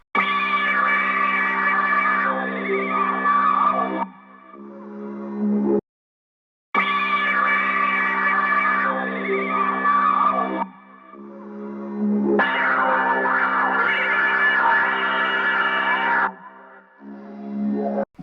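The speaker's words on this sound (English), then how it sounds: "the last sound to tie it all together was actually this lead from Omnisphere" A lush Omnisphere synth lead plays phrases with wavering, echoing tones, separated by brief pauses and a moment of silence, no voices.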